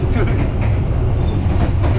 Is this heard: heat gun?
no